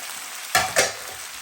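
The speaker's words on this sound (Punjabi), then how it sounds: "ਹੁਣ ਇਹਨਾਂ ਨੂੰ ਸਾਰਿਆਂ ਨੂੰ ਆਪਾਂ ਥੋੜੀ ਦੇਰ ਲਈ ਸਟਰ ਫਰਾਈ ਕਰਾਂਗੇ" Mushrooms, ginger and vegetables stir-fried in a hot pan for kung pao chicken, with a steady sizzle broken by two sharp tossing scrapes in quick succession, close up and without speech.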